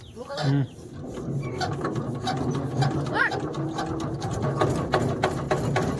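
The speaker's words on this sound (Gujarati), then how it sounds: "અમારા કામ ઉપર છોકરીઓ મશીનના હેન્ડલ મારે છે" Machine handle cranked by hand at a work site, a continuous rasping, grinding mechanical drone with regular ticking pulses, fairly loud and steady throughout.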